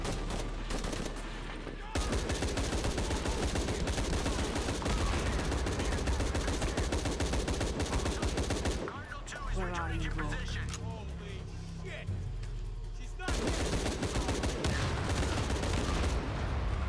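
Rapid automatic fire from a Tommy gun in Shadow of the Tomb Raider, dense sustained bursts of shots layered under game music and effects, with a short lull midway before firing resumes.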